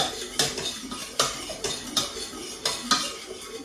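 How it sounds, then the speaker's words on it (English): Whisk strokes clatter against a pan as milk is beaten into lasagna sauce, with about six sharp metallic scrapes and taps in a steady, close rhythm. "I'm just going to add maybe 3/4 of a pint of milk, and then you have to whisk it all together"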